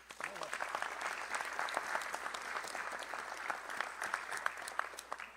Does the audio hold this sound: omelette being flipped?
no